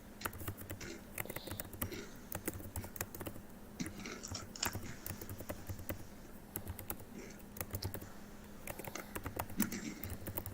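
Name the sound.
typing on a computer keyboard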